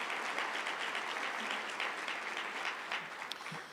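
Audience applause in a hall for a Made in Milwaukee entrepreneur named Liz at the Milwaukee County State of the County Address: steady, dense clapping from a large crowd throughout, fairly even in level with no voices over it.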